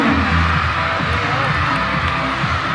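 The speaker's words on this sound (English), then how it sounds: "Take a loud cheer for them." A loud, continuous crowd roar of cheering and shouting, likely including children's voices, rises from spectators at a school annual sports meet race, dense and unbroken throughout.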